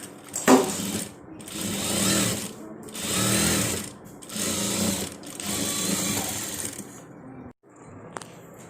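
A sewing machine stitching a crop top runs in four or five steady whirring bursts separated by short pauses, close and fairly loud, ending in quiet with a faint click.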